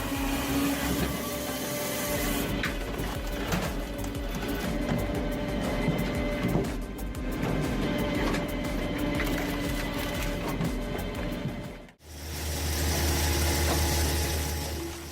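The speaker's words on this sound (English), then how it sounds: "365 Pro PTO powered log splitter as it splits dry and hard maple wood with its 6-way blade" A tractor-driven 365 Pro PTO log splitter with a 6-way blade works through dry, hard maple, its engine droning steadily with faint knocks and rattles, dipping briefly before the hum resumes.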